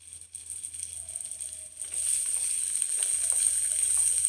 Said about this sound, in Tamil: எண்ணெயிலேயே நல்லா வதங்குங்க.